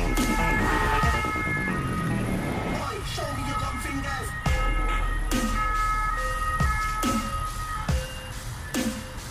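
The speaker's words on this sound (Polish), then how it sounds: "Straż, ambulanse, policja, wszyscy naraz." Wailing sirens of fire engines, ambulances and police rise and fall at a car fire on a highway, loud and close, with several sharp bangs or knocks breaking through the noise.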